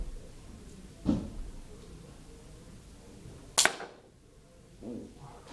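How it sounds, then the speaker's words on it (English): Three airsoft pen gun shots ring out indoors, each a sharp brief snap or impact, the middle one loudest and crisp as it strikes a box, the others duller thuds in a quiet room. "I think I hit the top of the box."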